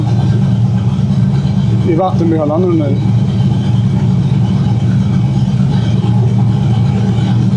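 Chevrolet big-block V8 running on an engine dynamometer, a loud steady low rumble throughout with a voice speaking over it briefly.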